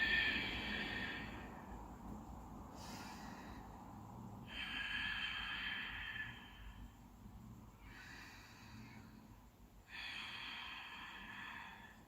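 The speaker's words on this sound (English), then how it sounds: "Take 3 breaths." Slow, deep breaths during a yoga session, three long breathy cycles in a steady rhythm, close and fairly quiet, with each airy exhale swelling and fading before a pause.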